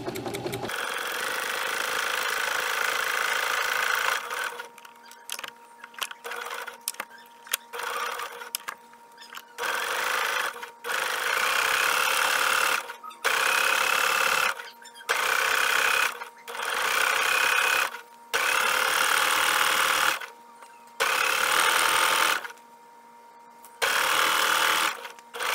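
A sewing machine stitches fabric for a mermaid tail in bursts, loud steady whirring runs separated by short pauses as the fabric is turned.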